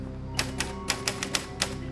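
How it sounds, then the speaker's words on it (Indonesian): Rapid clicking of keys being typed on a keyboard, with about a dozen sharp, close taps in uneven bursts over a low steady background hum, no voices. "Begitu dia diem, baru ngetik."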